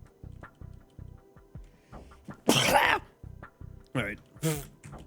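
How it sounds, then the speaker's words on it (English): A person sneezes loudly and forcefully indoors, a sharp burst that stands out over a steady rhythmic background beat, followed moments later by another short explosive sneeze. "Oh god, I'm gonna sneeze."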